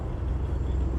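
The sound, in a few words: Ford Mustang car engine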